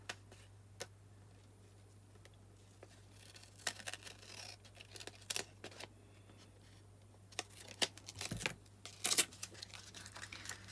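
Scissors snipping along the edge of a paper journal tag, a few quiet, scattered cuts and rustles at close range, busier toward the end, with no talking.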